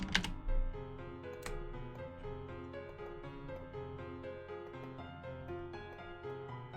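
A computer keyboard clicks and clacks in a steady, close patter of typing, with a soft musical bed running underneath the keystrokes.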